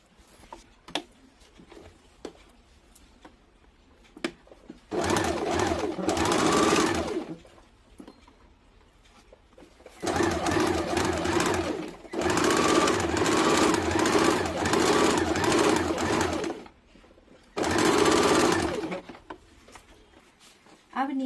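Sewing machine stitching the panels of an umbrella baby frock, running in three long loud bursts of steady whirring with quiet pauses and handling noises between them.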